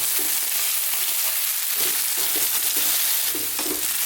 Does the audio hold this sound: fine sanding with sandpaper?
no